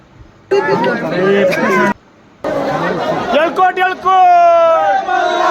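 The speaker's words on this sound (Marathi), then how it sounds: "तर काय एवढी गर्दी बघा आता जेजुरीला दर्शनासाठी आलो आहे" A large crowd of pilgrims at Jejuri temple, a loud dense babble of many voices close by, with a brief drop partway through and a swell of shouting toward the end.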